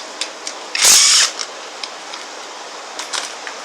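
A power tool, likely an impact or drill driver, removing a housing bolt on a Honda J30A5 engine during a teardown, heard as one short, loud high-pitched whirr of about half a second amid faint clicks and handling noises.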